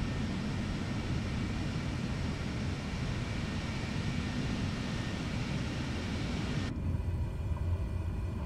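Steady, loud propeller-engine drone and airflow roar in a flight simulator, with AI traffic aircraft around a Cessna 208B Caravan on a Dublin to Edinburgh leg; it continues throughout and thins abruptly near the end.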